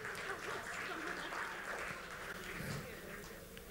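Crowd applause at a community awards raffle, a dense clapping wash with some cheering that stays fairly even and thins out toward the end.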